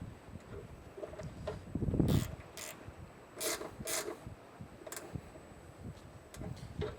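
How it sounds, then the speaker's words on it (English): Ratcheting wrench tightening supercharger bolts on a 2024 Mustang GT engine, heard as quiet bursts of rapid clicking with a few sharper ticks, intermittent over several seconds in a calm garage. "I'm gonna use a ratcheting wrench here just to make this a little bit easier on myself."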